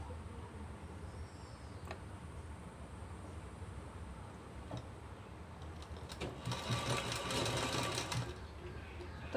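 A sewing machine stitches thick thread into fabric for making narrow rope, a quiet steady whir under light handling noise that grows louder and busier in the last few seconds.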